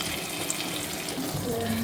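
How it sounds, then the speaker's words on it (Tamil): Water poured into a pan of Muslim-style eggplant gravy for biryani, cooked with ground fenugreek, peanut and white sesame; a steady close wash of pouring and bubbling runs throughout, with a faint sizzle underneath. "இப்போ இந்த அளவுக்கு சும்மா கொஞ்சோண்டு தண்ணி ஊற்றிக்கலாம்"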